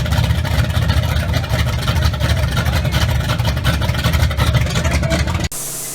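A rowdy vehicle engine runs loud and close with a rough, throaty roar and revving surges that hold steady for about five seconds before cutting off abruptly.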